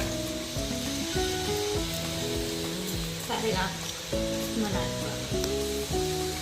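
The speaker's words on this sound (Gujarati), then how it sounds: "ફ્રાય થઈ રહ્યા છે." Bhajiya fritters frying in hot oil in a home kitchen on a rainy day, a steady close sizzle running throughout under background music.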